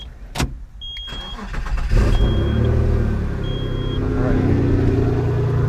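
Engine of a 1992-97 Subaru SVX cranking and catching, then settling into a steady, close rumbling run after a short whine and a knock, with a voice speaking briefly near the start.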